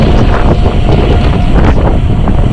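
Strong wind with rain roars and buffets the microphone on the coast by the Cliffs of Moher, a loud, continuous rumbling gust with no voices.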